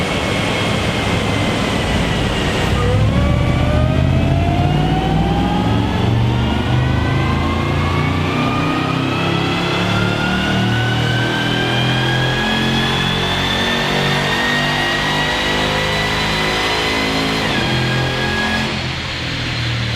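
Supercharged Jaguar XJR fitted with a Harrop TVS2300 supercharger, running on a dyno: a loud, close engine revs up steadily through the gears with rising supercharger whine, sustained at full throttle before easing off near the end.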